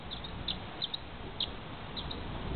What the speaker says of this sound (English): he makes the loudest chirps